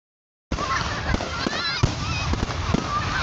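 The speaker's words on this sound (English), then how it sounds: "Oh no, it's just fireworks, local fireworks." Local fireworks popping in a series of sharp bursts across a steady outdoor background, with people talking and calling out over them.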